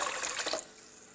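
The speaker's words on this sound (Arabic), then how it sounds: "اول حاجه غادي نعبروا الماء" Water for bread dough is poured into a container, making a brief splashing stream that stops after about half a second, leaving quiet room tone.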